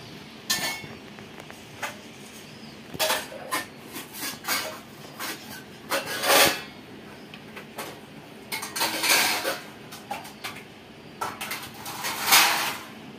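Steel pots, dishes and cutlery being stacked and put away in a home kitchen while tidying up, with repeated bright clinks and clatters in irregular bursts, close and moderately loud, without speech.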